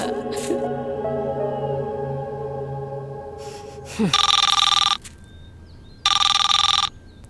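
A telephone rings indoors in two loud electronic bursts of about a second each, separated by a pause, following a short stretch of a voice.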